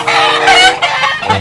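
Chickens cluck loudly and continuously at close range as they come into a house, with overlapping calls and no talking.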